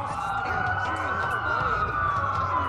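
Several police sirens in a video game wail at once, loud and continuous, their pitches sweeping up and down and overlapping, with a low engine rumble underneath.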